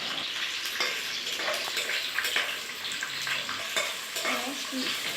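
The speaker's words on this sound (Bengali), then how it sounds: "আর পেঁয়াজটা দেওয়ার পরই হালকা নাড়াচাড়া করে আমরা পেঁয়াজটাকে কিছুক্ষণের জন্য রেখে দিয়েছি যাতে পেঁয়াজটা লালচে হয়ে আসে" Sliced onions frying in a pan for a jackfruit meat curry, a steady close sizzle with scraping stirs and spatula knocks running throughout, no talking.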